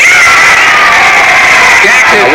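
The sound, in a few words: crowd applauding and cheering on radio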